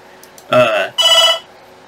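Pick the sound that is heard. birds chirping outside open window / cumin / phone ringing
phone ringing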